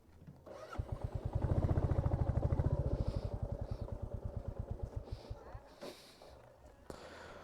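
A motorbike on a mountain road at about 12,000 feet near Thambi View Point, Zuluk, idles with a loud, rapid thumping pulse that slows and fades as it is brought to a stop, then a few faint bumps and shuffles follow.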